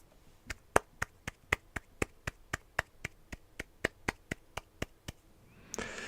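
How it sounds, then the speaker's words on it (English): Hands clap about nineteen times in a steady, evenly spaced rhythm, each clap crisp, close and fairly soft against a quiet background during a Christmas storytime, ending with a brief rustle. "The clerk in the tank involuntarily applauded."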